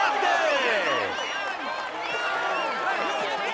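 Roadside crowd at a Tour de France stage cheers and applauds a cyclist, with loud, dense whistles and shouts from many voices that dip slightly and build again.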